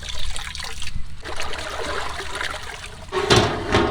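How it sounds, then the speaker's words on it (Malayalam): Lemon juice trickles in a thin splashing pour into hot saffron water for a large mutton biryani, a short liquid dribble close by with a louder splash near the end. "ഒരല്പം നാരങ്ങ നീര് കൂടെ ഒഴിച്ചു"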